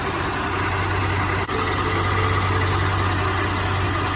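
A Ford F-150 engine idles steadily with a low, continuous hum and rumble, close and unchanging, with no talking.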